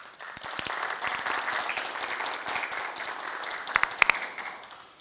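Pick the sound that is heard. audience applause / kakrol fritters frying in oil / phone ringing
audience applause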